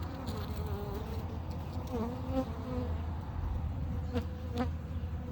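Honey bees hum steadily from an opened hive holding a newly adopted virgin queen, a dense, close, continuous buzz with individual bees droning past now and then.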